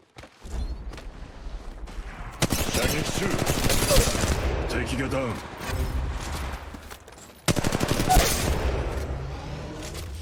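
Gunfire in the video game Apex Legends Mobile, with loud bursts of rapid automatic shots in two stretches separated by a brief lull, close and punchy over game ambience.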